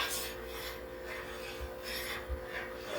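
A spoon stirs and scrapes through thick, boiling pepper jam in a pot, with rhythmic rasping strokes, close and moderately loud, and no talking.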